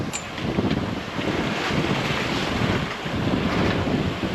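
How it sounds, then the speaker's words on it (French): Strong downwind gusts of around 20 knots roar across the microphone aboard a sailboat at sea, with the rushing wash of waves beneath, a loud, continuous, buffeting noise with no voices. "Avec derrière le vent, là, 15 nœuds de vent, plus les 6-4 font vent au portant, 20 nœuds de vent."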